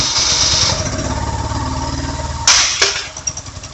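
A BMW motorcycle engine idles close by with a steady low throbbing pulse, then gives a sudden loud burst and a sharper knock near the end before settling into a quieter, uneven idle.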